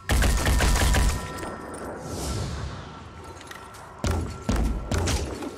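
Rapid bursts of gunfire in the video game Phoenix Point, sharp repeated shots up close, followed by a whoosh and a few more heavy thumping shots.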